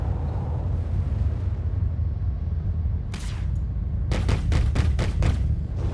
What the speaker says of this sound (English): Spam our space cannons, because why not?